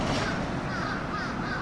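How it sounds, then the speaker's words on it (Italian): Crows caw noisily and continuously on a Japanese street, a dense, steady chorus of harsh calls filling the whole stretch with no talk. "Guardate i corvi, che bordello che fanno!"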